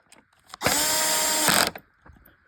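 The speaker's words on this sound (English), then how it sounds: "Let me get the Milwaukee drill driver." A Milwaukee M12 drill driver whirs in one steady, loud burst of about a second while driving screws back into a Hoover WindTunnel vacuum's housing, with faint handling noises before and after.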